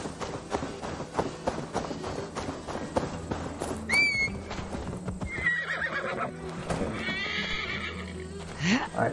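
A horse in the video game Assassin's Creed Valhalla neighs and whinnies over a steady clip-clop of hooves, with music and ambient game sound running underneath throughout.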